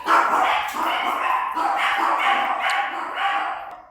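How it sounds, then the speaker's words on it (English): Several dogs bark and yip repeatedly in quick bursts, fairly close and loud, with some whimpering mixed in. "And the dogs are already barking"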